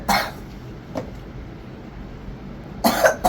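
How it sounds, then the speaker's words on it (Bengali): A young boy with a cold coughs nearby in three short bursts: a harsh cough, a softer one a moment later, then a final rough double cough after a quiet pause. "দেখছেন কেমন কাশি।"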